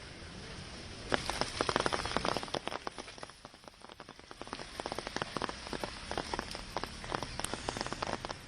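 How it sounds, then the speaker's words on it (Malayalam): Heavy monsoon rain in Ernakulam district, Kerala, pours down in a steady, dense patter on surfaces, the drumming swelling and easing slightly without any voices. "കാലവർഷം എറണാകുളം ജില്ലയിൽ ശക്തമായിട്ട് തന്നെ തുടരുകയാണ്."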